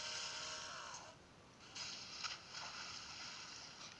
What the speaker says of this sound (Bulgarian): Това е полицейска лодка.